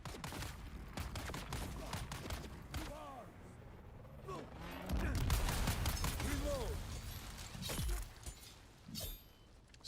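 Gunfire in Dune Awakening, a long string of sharp shots scattered through a busy combat scene, with heavier booms midway, mechanical clatter and someone talking over it.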